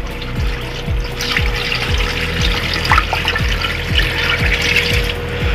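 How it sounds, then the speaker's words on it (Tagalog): Two liters of water poured into a pressure cooker holding beef for bulalo, a steady splashing stream with rhythmic low gurgling pulses, close and fairly loud, no voices. "Lagyan natin siya ng yung 2 liters ng ating tubig."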